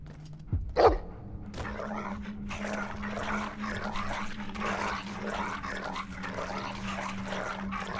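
Dog in the Game of Thrones RPG video game: one sharp, close bark rings out early, followed by a low rumbling growl and soft whimpering noises that carry on underneath for several seconds.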